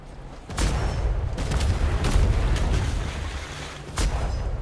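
Ship cannons firing in a naval battle in the video game Atlas, with heavy booming blasts rolling into one another in a loud, continuous barrage and sharp new reports breaking through near the start and end.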